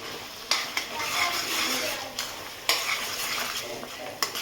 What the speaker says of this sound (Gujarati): તો આ ગ્રેવી આપણે લઈ લઈશું અને મિક્સ કરી દઈશું